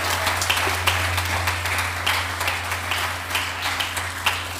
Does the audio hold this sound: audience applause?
yes